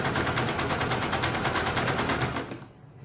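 A sewing machine runs fast while stitching a blouse, a loud, rapid and evenly repeating needle clatter that carries on steadily and then stops near the end, with nobody talking.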